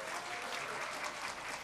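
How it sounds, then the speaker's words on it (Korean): Applause from a church congregation at a mothers' prayer meeting greets the pastor, a steady, moderately distant wash of clapping with no talk over it. "목사님 나오실 때 큰 박수로 맞이해 주십시오."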